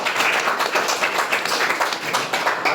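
An audience at a school coaching-class prize distribution claps steadily, a dense, close patter of many hands with no pauses or talk.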